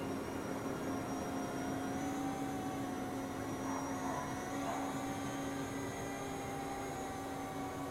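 A radio-controlled model aircraft's electric motor runs on an 11.4-volt battery, giving a steady, even whine with a helicopter-like drone at moderate, unchanging loudness throughout.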